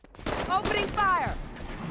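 Automatic gunfire from a soldier firing in the video game Halo 5: Guardians, a steady burst of rapid shots running about two seconds with fast sweeping sci-fi weapon tones layered over it.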